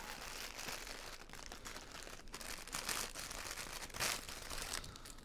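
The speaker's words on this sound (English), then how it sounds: "And then you just have to rip into this bag." A plastic bag from Stolen Goat Hexi sunglasses packaging is torn open by hand, making close, bright crinkling and tearing with several sharp rips over a few seconds.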